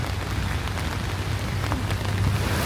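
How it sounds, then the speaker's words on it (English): Heavy rain pours steadily outdoors in Kuala Lumpur, a dense, constant hiss of drops on surfaces with a low rumble underneath, close and unbroken. "it's now raining pretty hard"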